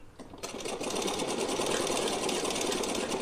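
A sewing machine stitches straight along fabric for a doll-sized fancy outfit, its steady fast whirring hum running loud and continuous after a brief start, with no talking.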